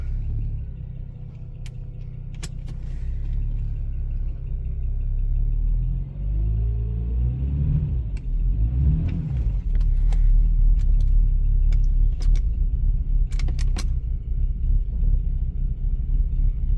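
A 2007 BMW 335xi engine runs while the car drives, a heavy low rumble that swells and surges partway through, with scattered clicks and knocks above it.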